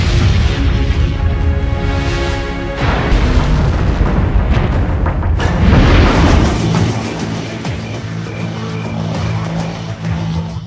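Sci-fi effect of a star exploding from within: a dense, loud rumbling roar with booming low-end swells and a sharp burst near the middle, then a sustained droning tail, no voices.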